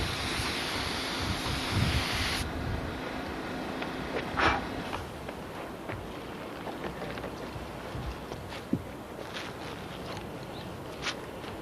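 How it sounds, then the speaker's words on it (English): Wind gusts outdoors on a sunny day, roaring into the microphone as a loud broadband rush at first, then easing to a lighter, steadier blow with a few soft knocks and no speech. "Whoa, there goes the wind."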